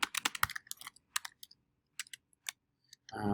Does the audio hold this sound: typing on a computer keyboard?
yes